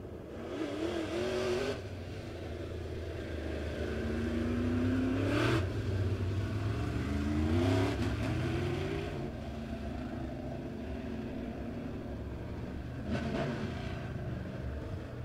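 Race car engines at a dirt-track speedway rumble and rev before a three-car heat race, swelling in repeated loud pulls with rising pitch, then dropping back to an idle drone between bursts.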